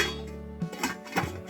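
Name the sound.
covering a cooking pot with its lid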